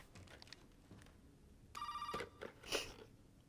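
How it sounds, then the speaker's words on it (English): A telephone in the Resident Evil 7 video game sounds a short electronic ringing burst partway through, set against faint ambient game noise and footsteps. It is quiet overall and nobody speaks. "Of course the phone rings."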